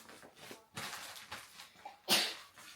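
A single sharp sneeze bursts out near the end, loud and close, following a stretch of quiet rustling and packing noises in a room.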